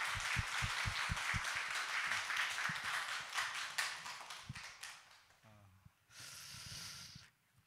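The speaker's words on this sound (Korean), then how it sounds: "우리 하나님께 오늘 부활하신 주님 큰 영광의 박수 함께 올려드릴까요?" Church congregation applauding at an Easter Sunday service: dense broadband clapping fills the first five seconds, then thins and fades, with a short burst of voices and brief noise near the end.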